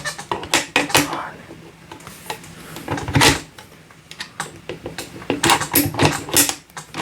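A MAS-36 bolt-action rifle is worked by hand, with a series of close metallic clicks, clacks and sliding bolt sounds from the magazine and action, in irregular bursts with pauses between.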